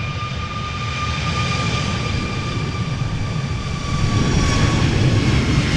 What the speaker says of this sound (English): Icelandair flight 507, Boeing 737 MAX 8 going to Reykjavik